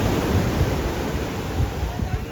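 Ocean surf rushes and crashes continuously at Ipanema Beach in Rio de Janeiro, a loud, broad wash of breaking water mixed with wind buffeting the microphone.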